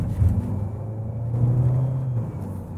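A Citroen DS5 running on petrol drives along at a relaxed pace, its engine giving a steady low rumble with a slight swell in the middle and no talk over it.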